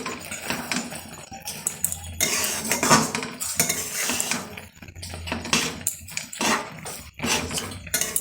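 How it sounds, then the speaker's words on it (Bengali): A metal utensil stirs and scrapes food in a cooking pan, making a busy, continuous clatter of clinks and scrapes with brief pauses, close and fairly loud, with no talking. "এটা ভালো করে নাড়াচাড়া দিয়ে নিই।"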